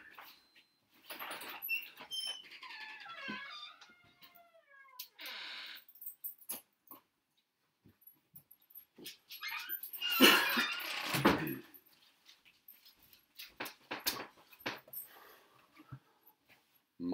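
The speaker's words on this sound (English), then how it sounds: "My dog, Keela, just came right up to the door and gave a gentle little bark" A pet dog gives a gentle little bark at a house door, the short soft barks and small whimpers scattered through quiet surroundings, with a louder rustle in the middle.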